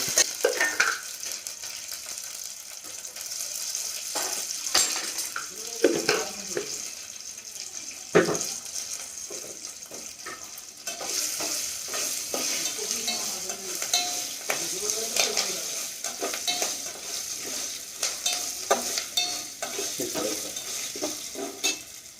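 Chilies and curry leaves frying and being stirred in a pan for pulihora, a steady close sizzle with scraping spoon strokes and occasional clatter throughout, with no talk.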